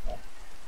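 Rain falling in the Minecraft video game makes a soft, even hiss over a brief moment, faint and unbroken.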